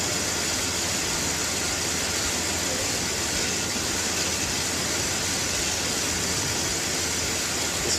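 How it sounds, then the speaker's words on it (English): A truck engine idles steadily with a constant broadband rumble and hiss, loud and unbroken throughout, no voices over it. "I got the truck running here so that we can kind of take the level down and just top her off"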